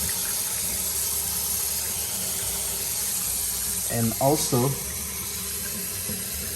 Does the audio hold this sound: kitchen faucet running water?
yes